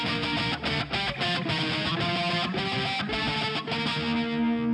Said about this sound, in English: we compressed the hell out of it. It's really compressed.